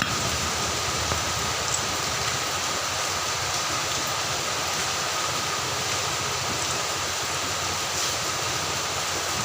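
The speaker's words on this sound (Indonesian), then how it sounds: "Hujan gede di sini, mohon maaf suara terganggu." Heavy rain pours down outside an Indonesian repair workshop, a dense, steady broadband hiss that stays constant and loud throughout without pauses or other distinct sounds.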